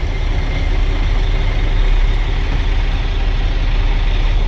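A truck engine idling after about twenty minutes of running, wired so it won't shut off, with a loud, steady low rumble close by and no change in pitch throughout.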